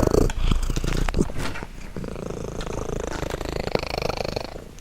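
A contented cat named as a happy male purrs steadily and close up, a continuous low rumbling throb lasting several seconds with no talking over it.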